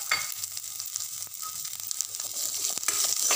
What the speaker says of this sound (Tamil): இப்போ கட் பண்ணி வச்சுருக்க வெங்காயத்தை சேர்த்துக்கிறோம்